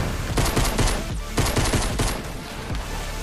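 Loud automatic gunfire in Fortnite Season 5 comes in rapid bursts separated by short pauses, close and dominant, with no talk over the shots.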